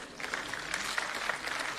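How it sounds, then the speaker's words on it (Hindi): Audience at a BJP membership campaign launch rally applauds steadily in a dense, moderately distant wash of clapping with no break. "एक बार तालियों से स्वागत करें सभी"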